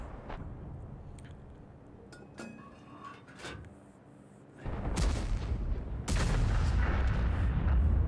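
Heavy tank cannon blasts from World of Tanks boom out, two loud broadband bursts following quieter mechanical clanks and rumbling.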